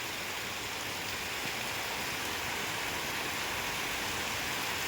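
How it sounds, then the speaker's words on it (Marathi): Heavy rain pouring down steadily outside a house, a dense, loud, unbroken hiss of drops striking surfaces with no voices. "आज पावसाने चांगलाच जोर धरला."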